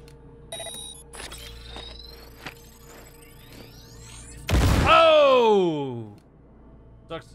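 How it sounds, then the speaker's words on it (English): A grenade detonates in the video game Cyberpunk 2077 as a single loud, sudden blast halfway through, with ringing tones sweeping downward as it fades over about a second and a half. Quieter game ambience and scattered effects come before it. "Now, detonate the grenade."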